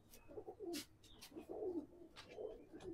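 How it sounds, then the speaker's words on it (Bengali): Andhra breed pigeons coo close by in soft, throaty, rolling bursts, three or four calls in quick succession. Faint feather flutters sit underneath, and no one speaks. "পায়রা লাইভ এই যে এখনো উড়ছে।"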